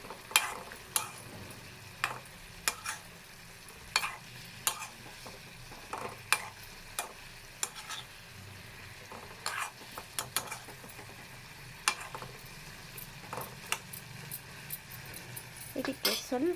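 Drumstick palya with chili powder, roasted gram powder and grated coconut is stirred in a pan, giving quiet, scattered scrapes and taps of a spatula over a low, soft background.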